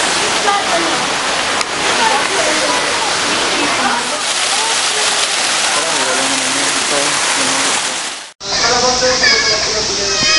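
A waterfall at Manila Ocean Park pours with a steady, loud rushing roar throughout, with voices talking over it; the sound cuts out briefly near the end and then resumes.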